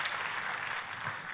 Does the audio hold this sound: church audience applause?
yes